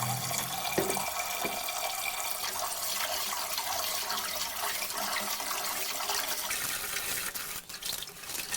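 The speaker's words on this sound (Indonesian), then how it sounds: "Oke teman-teman semuanya, kita cuci kembali berasnya ya." Water pours and splashes steadily over rice in a pot for a second wash, continuous and close, with the flow thinning briefly near the end.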